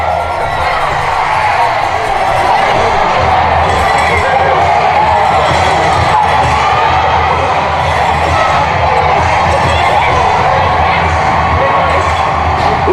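Loud crowd at a junior hockey tournament game roars and cheers after an early first-period goal, a dense sustained wall of noise throughout.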